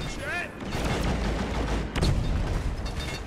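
Gunfire from weapons in the Deep Rock Galactic video game, a dense burst of rapid shots running loud and close through most of the moment, with a brief voice at the start.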